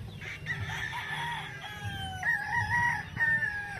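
A yellow-legged hatch rooster, a gamefowl broodcock, crows in a few drawn-out calls rising and falling, fairly close, over low outdoor background noise.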